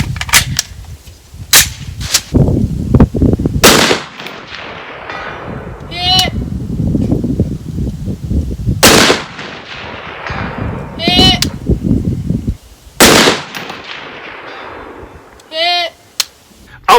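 A Sig Rattler MCX rifle in 5.56/300BLK with a 5.5-inch barrel fires several sharp, loud shots at spaced intervals at a long-distance range, with faint ringing impacts and talk between shots.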